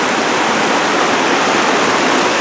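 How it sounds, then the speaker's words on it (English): Crystal Creek at Mount Rainier rushes loudly and steadily right up close, a dense, unbroken roar of fast water over rocks while hikers cross it. "So from Crystal Creek, crossing it for the final time today."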